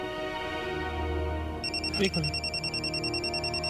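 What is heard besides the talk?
phone ringing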